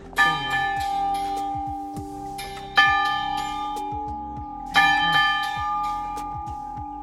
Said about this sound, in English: This is the outside of the little church, but it has a bell